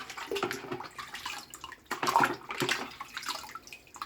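Water splashes and runs in irregular bursts as the outside of a small internal aquarium filter motor, rated at 880 litres per hour, is rinsed close by.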